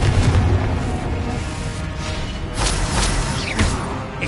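Confringo blasting-spell explosions in Hogwarts Legacy burst as several loud booms with whooshing tails, spread across a busy stretch of spell combat.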